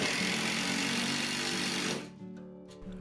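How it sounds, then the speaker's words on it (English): Impact driver sinking long screw-head bolts while a pipe wall unit is assembled: a loud, dense hammering whir runs steadily for about two seconds, then cuts off abruptly to a quieter room with faint clicks. "I was able to use my impact driver to get them going most of the way"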